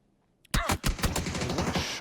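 Rapid bursts of gunfire ring out in the battle royale game PUBG during a competitive esports match. The shots start suddenly after a short quiet and repeat loud and close in an uneven stream, with no talk over them.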